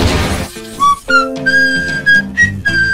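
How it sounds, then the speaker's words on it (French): A clear melodic whistle holds steady notes and short phrases, rising and changing pitch, over a mixed background of clatter and tones. "J'adore siffler des airs différents."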